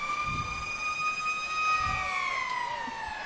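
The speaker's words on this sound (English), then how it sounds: "you see the Tornado Alley sirens and the signs going off for the touchdown" Siren tones sound steadily at a football game, celebrating a touchdown as part of the stadium's Tornado Alley setup, their long wailing pitch holding and slowly sliding, moderately loud and far-carrying over faint crowd rumble.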